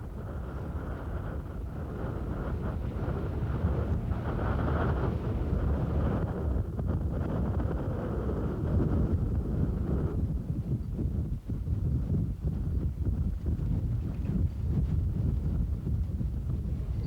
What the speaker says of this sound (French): Vent de sable, toute cette partie du Maroc, ce soir-là, est sous l'orage.